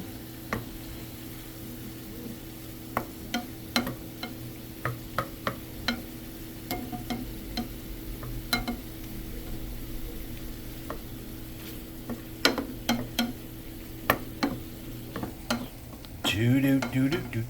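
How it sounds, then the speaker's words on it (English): Shrimp sauté in a pan with a low continuous sizzle, punctuated by irregular sharp clicks and taps of a utensil against the pan, close up, with a louder burst of sizzling near the end. "sauteing my shrimps"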